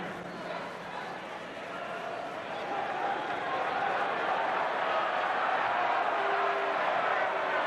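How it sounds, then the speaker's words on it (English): Crowd noise at a 1992 indoor lacrosse game, Pittsburgh against New York, a broad roar from a large arena audience that swells and holds steady, with a commentator talking over it. "Crowd booing here"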